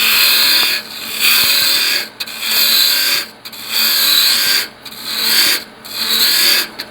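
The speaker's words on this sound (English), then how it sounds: "take the roughing gouge and just reduce this diameter" A roughing gouge cuts a spinning wood blank on a lathe while a pepper mill is shaped, the diameter being reduced in loud, harsh scraping passes that swell and break off about five times.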